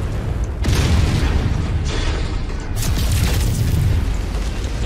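Artillery explosions roar in Mechwarrior 5: a loud, heavy booming barrage with several deep blasts in succession and a rumbling tail throughout the span, with no talk over it.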